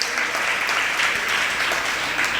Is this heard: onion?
no